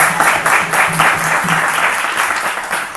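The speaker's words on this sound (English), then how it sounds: "Please give a big round of applause." An audience at a spiritual lecture on the Bhagavad Gita gives a steady round of clapping in close, evenly pulsing bursts that fill the space without any talk.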